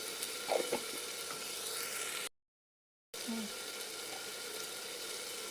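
Ground coriander, cumin, spices and turmeric powder frying in a pan for a goat meat and jackfruit seed curry, a continuous close sizzle with stirring scrapes near the start and a brief dropout midway, no voices.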